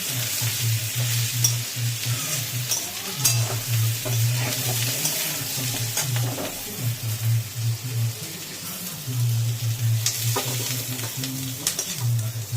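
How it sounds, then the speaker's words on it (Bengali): Loud frying sizzle with repeated scraping and clattering of a spatula stirring in a pan, close and continuous, no speech. "এটা ভাজবো ভালো করে লাল লাল করে"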